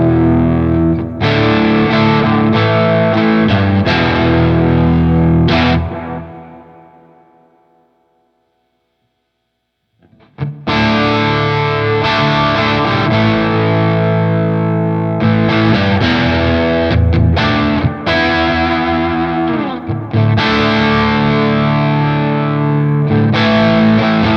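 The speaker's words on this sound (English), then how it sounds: "when you crank up the gain, you can really hear" Heavily distorted electric guitar through a Victory high-gain preamp pedal, thick crunch played loudly; it breaks off into silence for a few seconds, then the saturated riffing returns.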